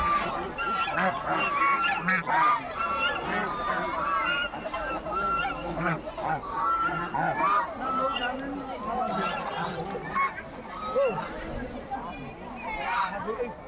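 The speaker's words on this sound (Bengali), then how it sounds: "রাজবাড়ির রাজহাঁস দেখতে পাচ্ছেন প্রচুর বড় বড় ডিমও দেয় বড় বড়" A flock of domestic geese honking loudly and continuously by a palace pond, their overlapping calls forming a dense, noisy chorus close by.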